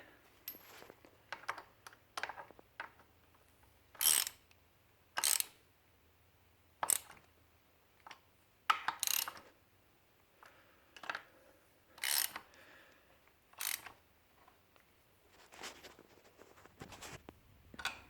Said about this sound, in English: Just going to thread the front axle in a little bit to help hold this side.